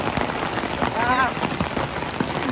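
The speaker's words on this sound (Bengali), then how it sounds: "চিড়িয়াখানা বৃষ্টি শুরু হয়ে গেছে" Steady rain falling and pattering on surfaces at a zoo, a dense continuous hiss with scattered drops, and a brief faint chirp in the middle.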